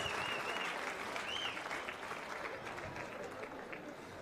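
An audience at a Zambian independence anniversary ceremony applauds steadily, a dense, even wash of clapping heard at a distance and fairly faint, with a few voices mixed in.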